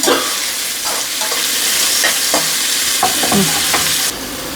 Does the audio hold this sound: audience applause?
no